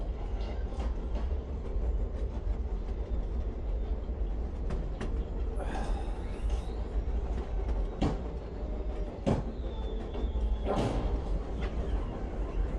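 Trains rumble past steadily in the video game Wolfenstein, a dense continuous roar of wheels and rail noise with scattered clanks and knocks throughout.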